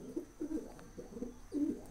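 Pigeons coo on the ground among a flock, low throaty rolling calls repeating in three or four close bursts over a faint steady background hiss.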